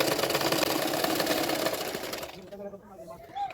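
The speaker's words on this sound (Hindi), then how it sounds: "किनारे किनारे पे सिलाई करते जा रही हूँ।" Electric sewing machine stitching along the edge of a katori blouse whirs in a fast, even stream up close, then stops, leaving soft handling noises and a faint voice.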